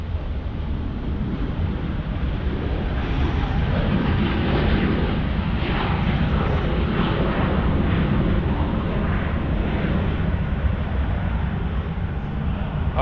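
Qantas flight QF12 on short final into Sydney airport, a steady, moderately loud jet rumble with a faint airy hiss and slight wavering, alone without talk.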